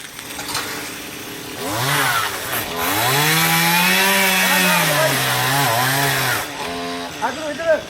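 A chainsaw cuts branches high in a tree during tree felling, revving up to a loud, wavering whine that holds for several seconds before easing back to a lower idle.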